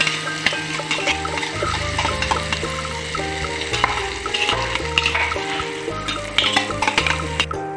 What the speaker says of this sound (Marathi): आपलं तेल चांगल्या प्रकारे गरम झालेलं आहे आणि आता यामध्ये हिरवी मिरच्या बारीक करून घेतलेल्या होत्या त्यासुद्धा यामध्ये टाकून घेणार आहे